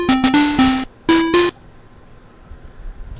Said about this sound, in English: So now let's see what it sounds like with drum beats.